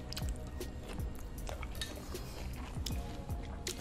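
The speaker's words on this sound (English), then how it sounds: "There's this chew sound I keep hearing." Wet, squishy chewing with small smacks and drips repeats close to the microphone during a prawn seafood boil meal, with no speech.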